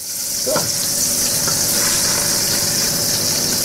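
Salted meat sears in hot oil in a pan on a cooking show, a steady, loud sizzle and hiss that runs the whole time with no voices.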